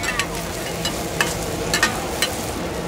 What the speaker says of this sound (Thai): หอยแมงภู่ทอดตลาดในเมืองสุรินทร์ครับ